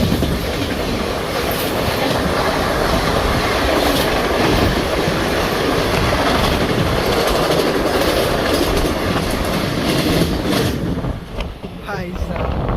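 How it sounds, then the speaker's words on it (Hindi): An old double-decker train rolling in, heard from the lower deck: a loud continuous rumble of wheels and carriages with rhythmic clatter, steady and close throughout, with a faint squeal near the end. "अभी ट्रेन आ रही है,"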